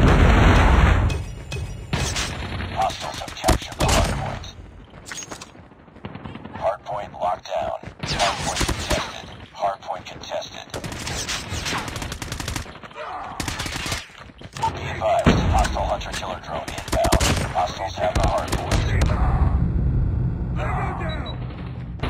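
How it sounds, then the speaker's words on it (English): Predator missile strike and gunfire in Call of Duty Mobile, with loud repeated bursts of shots and booms. Game voice lines and chatter come in between the blasts. "Predator missile inbound."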